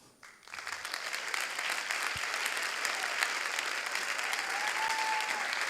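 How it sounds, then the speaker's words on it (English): At a sports conference in Paris, an audience breaks into applause for a speaker after a brief quiet start, the clapping swelling quickly and then holding steady and full, with a faint tone drifting through the background. "Please give her a huge round of applause."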